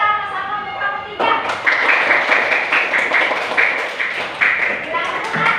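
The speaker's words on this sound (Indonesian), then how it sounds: "Kita beri aplaus sama-sama untuk kelompok 3." A classroom group claps for the third group after their presentation: dense, steady applause begins after a brief pause and keeps going to the end, mixed with voices and tonal noise.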